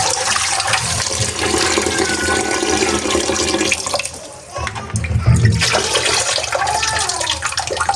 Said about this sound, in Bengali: এখন আবার ধুচ্ছে অনেকক্ষণ লাগে, ভালো করে ধুতে হবে।